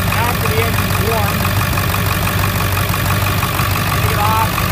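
A 7.3 Power Stroke diesel engine idles with a steady, loud, rough clatter, close by and unbroken for the whole stretch.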